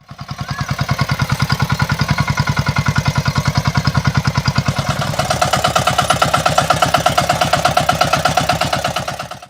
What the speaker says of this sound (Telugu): ఇక్కడ మీరు చూస్తున్నది బుల్లెట్ బండి కాదు అంతకు మించి పనితనం ఉన్న బుల్లెట్ ట్రాక్టర్